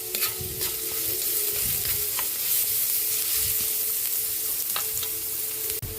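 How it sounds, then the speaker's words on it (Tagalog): Ginger and garlic sizzle steadily in hot oil in a pan for batchoy soup, a constant close frying hiss with occasional stirring scrapes and clicks. "Magigisa na po tayo para sa ating batchoy soup"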